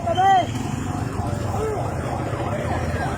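Police car siren wailing at a roadside emergency scene, its rising and falling sweeps heard near the start and then fainter, mixed into crowd noise and traffic rumble.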